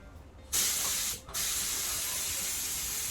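Paint spray gun hissing steadily as it coats the flat panels of a Peugeot J9 coffee van, a short burst, a brief pause, then a long continuous close-up spray.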